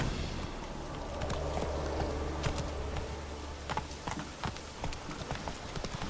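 Roach, Geralt's horse in The Witcher 3, trots with steady clip-clop hoofbeats over a low droning ambient bed, fairly close and moderately loud, no talking.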